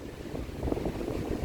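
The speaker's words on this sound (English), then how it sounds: "it's got to be 50 kilometer-an-hour gusts, maybe 60 at times" Strong wind gusting at 50 to 60 kilometres an hour over the Steel River in Ontario roars as a dense, rumbling buffet against the microphone, steady with slight swells.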